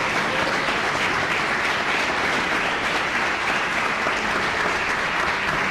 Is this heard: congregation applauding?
yes